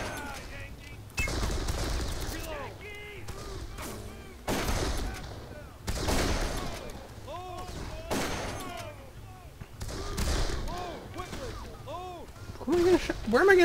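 Gunfire in the Darkest of Days video game, repeated bursts of loud shots and volleys erupting every couple of seconds, with a voice talking over and between them.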